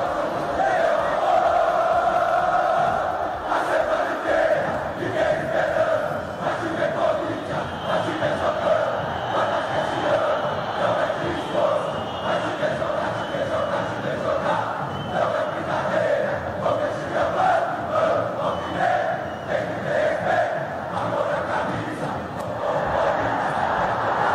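Corinthians away supporters chant and roar together inside Allianz Parque during a Palmeiras versus Corinthians derby, a dense, continuous crowd chorus with rhythmic swells that holds steadily for the full stretch.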